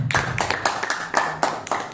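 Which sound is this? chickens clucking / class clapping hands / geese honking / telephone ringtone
class clapping hands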